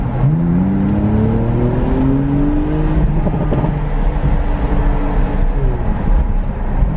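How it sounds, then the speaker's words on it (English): A 2018 Porsche 911 Targa engine with performance sports exhaust revs hard, pitch climbing in sweeping rises with a loud, throaty growl that stays steady throughout. "that noise in a Porsche is addictive. The performance sports exhaust is a must for every Porsche owner"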